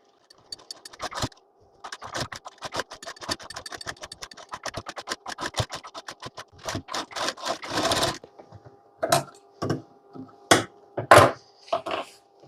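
A sewing machine running slowly with long stitches through a heavy lehenga blouse fabric set with stones, giving irregular runs of sharp needle clicks and short pauses, fairly close and alone.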